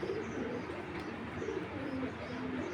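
Two Pakistani Giribaz pigeons of the Palla line coo softly and repeatedly in low, rolling phrases, close by and fairly quiet, without any talk over them.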